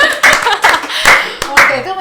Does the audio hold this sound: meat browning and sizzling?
no